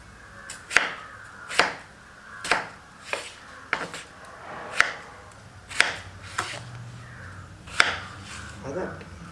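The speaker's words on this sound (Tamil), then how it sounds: "இப்போ நம்ம உருளைக்கிழங்கை கட் பண்ணுறோம். நீள் வாக்கில் கட் பண்ணுறோம்." A knife cuts potatoes lengthwise on a board for a prawn, brinjal and potato curry, giving about ten crisp, evenly spaced chops roughly a second apart, each with a short knock and fade.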